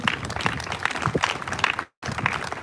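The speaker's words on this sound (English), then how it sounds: "Y'all give them a round of applause as they're doing this." A crowd at a candlelight vigil for missing people applauds as a memorial wall is unveiled, a steady wash of many hands clapping at moderate volume, cut by a short silent gap near the end.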